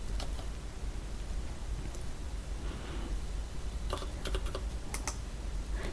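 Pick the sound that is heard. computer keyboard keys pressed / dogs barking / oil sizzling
computer keyboard keys pressed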